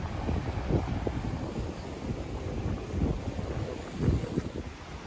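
Steady wind buffeting the microphone outdoors by Lake Jasna near Kranjska Gora, Slovenia, with low rumbling gusts that swell and fade.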